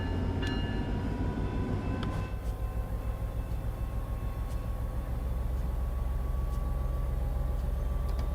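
A train rolls into Pomona Station in the Train Sim World video game, a steady low rumble of wheels and carriages with faint clanks and a brief higher tone early on.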